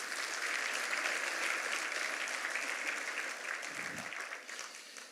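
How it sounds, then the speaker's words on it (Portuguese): A church congregation applauding for the Lord, steady dense clapping from many hands that holds evenly for several seconds before thinning slightly near the end. "Dá uma salva de palmas ao Senhor"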